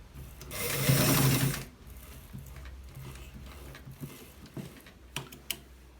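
A sewing machine runs in a short whirring burst, then scattered mechanical clicks and taps follow.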